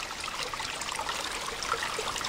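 Water seeping out of a mountainside near the top of an Appalachian Trail loop, trickling and dripping beneath rocks as a faint, steady babbling with soft, irregular splashes.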